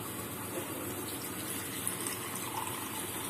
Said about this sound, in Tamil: தண்ணி சேர்த்துப்போம்